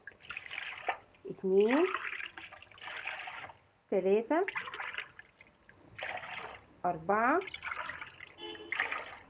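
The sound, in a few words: water poured by cupfuls into a pot for rice pudding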